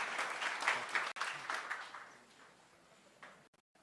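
A town hall crowd in Springfield applauds in a quick, fairly close burst that tapers off within a few seconds before cutting out.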